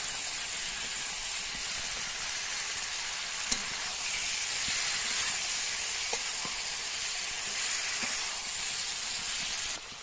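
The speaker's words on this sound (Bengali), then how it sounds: "চিংড়ি মাছগুলো দিয়ে দিয়েছি, এগুলো আমি ভালো করে কষে নেবো চিংড়ি মাছগুলো।" Prawns frying in a pan with potato and pointed gourd, a steady loud sizzle and hiss running throughout with a few faint clicks of stirring, no voices.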